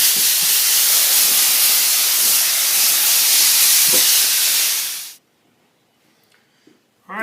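Compressed air blasting dust off a door before painting, a loud continuous hiss for about five seconds that cuts off abruptly, then near silence.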